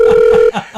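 An outgoing telephone call rings through a handset with a steady electronic ringback tone for about half a second, then breaks off into quieter, muffled line noise.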